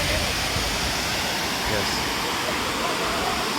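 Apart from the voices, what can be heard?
water flowing past a dam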